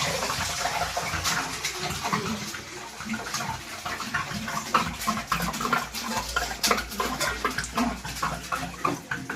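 Water is poured into a vessel with a continuous splashing gush, close up, while dishes and metal utensils clink and clatter now and then.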